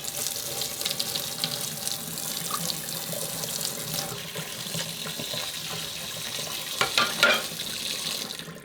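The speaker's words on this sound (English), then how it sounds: "So I'm just going to rinse this in some water." Cold water runs steadily from a tap into a sink while wool dyed with onion skins is rinsed, a continuous close splashing hiss with a brief louder gush near the end.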